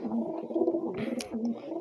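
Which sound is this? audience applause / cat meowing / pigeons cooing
pigeons cooing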